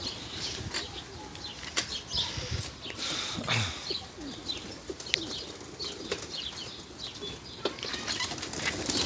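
Roller pigeons flap their wings in flight, a continuous fluttering rush of wingbeats with occasional louder bursts close by and no voices.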